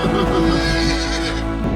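A horse neighs on the open Kruzi plateau in Bosnia and Herzegovina, a single loud, wavering whinny lasting nearly two seconds and heard close up.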